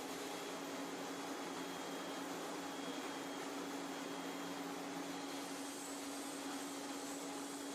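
A pipe-facing machine beveling steel pipe ends for mechanized welding, a steady, even mechanical whir with a constant hum and no pauses, heard alone without voices.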